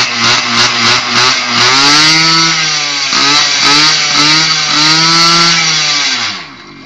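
A scooter engine starts and revs repeatedly. The buzzing motor is loud and close, its pitch rising and falling with each throttle blip, and no one speaks.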